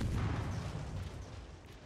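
Naval guns on a French destroyer in World of Warships fire in a dense, booming barrage, loud low rumbling blasts rolling continuously and slowly fading.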